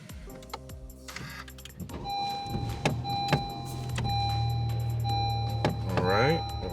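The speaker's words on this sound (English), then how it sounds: "Turn the car on." A Honda Civic Type R FK8 being started, with a few clicks and chimes, then the engine catching into a steady low idle with a rise in revs near the end.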